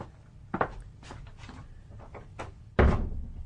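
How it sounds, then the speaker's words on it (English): A door is shut firmly in an audio drama, a quick handle rattle and creak followed by a solid, loud thud as it closes, with light movement and shuffling before it and no talk. "Close the door after you."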